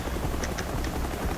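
A helicopter in the shooter game Shatterline gives a steady, loud rotor and engine drone that fills the moment, with a few brief higher blips over it and no talk.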